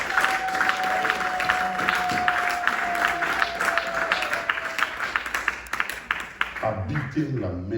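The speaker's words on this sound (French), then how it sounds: "toi acclamer le roi de gloire, s'il vous plaît" A church congregation claps and cheers in acclaim of Jesus, a dense, steady wave of applause lasting several seconds that thins out near the end while a voice speaks over it.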